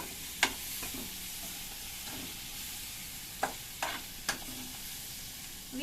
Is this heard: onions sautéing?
yes